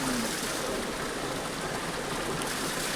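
Water from a mountain stream rushes in a steady, dense wash that stays even and close throughout, with no voices over it.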